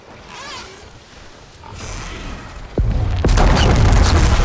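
A bomb goes off in Horizon Forbidden West, a sudden loud boom that jumps out of quieter ambience and leaves a sustained, heavy roar of debris and rumble through the rest of the moment.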